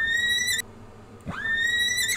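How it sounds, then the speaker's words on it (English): Excited horse neighing in the Disney Magic Artist Studio video game: two loud, clear whinnies with a short gap between them, the second rising sharply before it settles into a long, bright, sustained cry. "A very, very excited horse."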